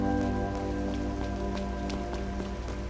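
Steady rain falls in a video game, Trails Through Daybreak, a continuous hiss of drops with scattered sharper patters over a tonal music bed, no talk.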